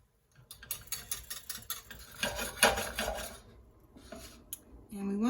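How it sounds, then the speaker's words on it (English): Caramel stirred in a pan with a small whisk: close, light rhythmic ticking and scraping of wire against metal, quick and irregular, with a brief louder clatter partway through. "So I will stir it every once in a while. I switched to a smaller whisk."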